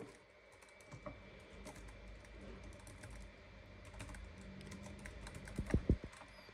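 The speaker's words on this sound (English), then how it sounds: "if I type her name in now." Someone types on a computer keyboard, a quiet, quick, uneven patter of key taps close by, ending in a few sharper, louder strikes.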